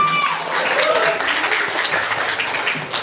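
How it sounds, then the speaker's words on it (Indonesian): Audience clapping to cheer a team at a primary-school academic quiz final, a steady burst of applause lasting about three seconds, with a faint tonal whistle or squeak at the start. "tepuk tangan sekali lagi untuk menyemangati Regu yang ada di depan ini"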